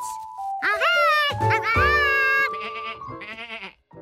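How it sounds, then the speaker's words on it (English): Cartoon sheep in a grassy field, several loud, close, wavering bleats in quick succession, high and nasal with a tremble, standing alone without talk. "George figured he'd pass the time watching the sheep eat grass."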